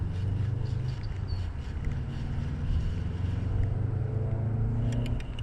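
A Subaru WRX passing nearby, its engine and exhaust giving a steady low rumble that holds for several seconds outdoors.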